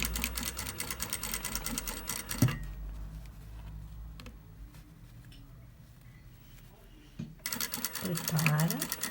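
Sewing machine stitching fabric for a flared skirt with cut panels, bursts of fast rhythmic whirring at the start and end separated by a quieter pause, with a voice talking over parts of it.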